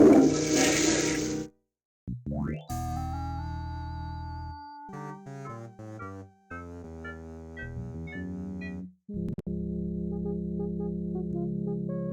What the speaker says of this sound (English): Okay, I flushed it.